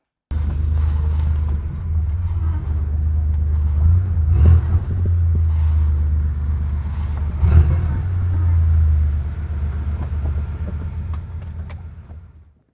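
A restored Porsche 911 3.3 with a four-speed gearbox being driven, its engine a steady low rumble inside the cabin with a couple of brief surges, fading out at the end.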